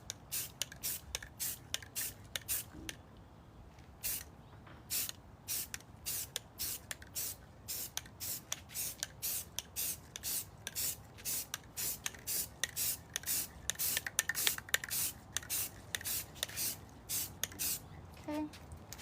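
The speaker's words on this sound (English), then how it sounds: "Small, short little sprays" Spray paint hisses from a can onto spice jar lids in many short, evenly spaced bursts, each a crisp close hiss separated by brief pauses, with no talk.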